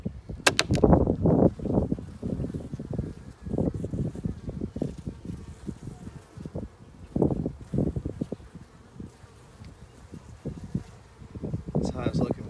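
Bees hum around an open beehive during pollen block feeding, a close buzzing that swells and fades as insects pass near, with someone speaking over it at times.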